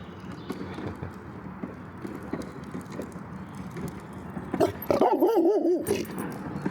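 A Doberman barks a few times at moderate distance amid outdoor background noise, with a louder burst near the end.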